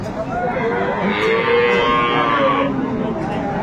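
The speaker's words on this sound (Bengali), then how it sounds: "সুন্দর কোয়ালিটির একটি গাভী বাছুর।" A cow moos in a long, drawn-out low call at a busy rural cattle market in Aftabganj, Dinajpur, with crowd murmur and voices around it.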